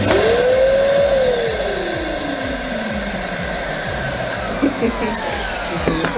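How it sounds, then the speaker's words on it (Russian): Two Karcher household vacuum cleaners running together, a loud steady whine and roar with a motor pitch that sweeps up and then slowly falls, continuing throughout, with a voice speaking over it. "Ну вот просто вот я включаю, и они оба одновременно включаются."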